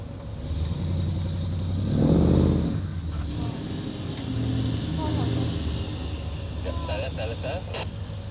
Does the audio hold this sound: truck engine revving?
yes